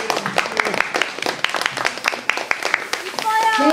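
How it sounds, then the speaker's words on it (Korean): An audience claps for a performer coming onto a stage at an idol concert, irregular sharp claps and cheers with voices mixed in and music starting at the end. "나올 때 박수 크게 쳐주시면 감사하겠습니다"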